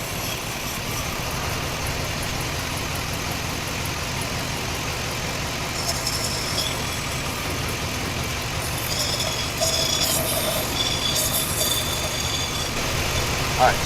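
A 2005 Avalanche truck engine with an oil consumption problem runs steadily with a rough, uneven idle, low rumbling that occasionally falters and stutters, close by and fairly loud.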